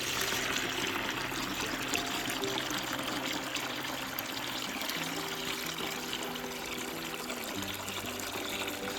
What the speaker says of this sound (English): I'm going to fill this bucket with this hose